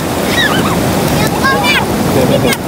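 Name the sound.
strong ocean waves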